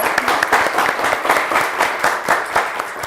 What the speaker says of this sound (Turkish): alkışları duyuluyor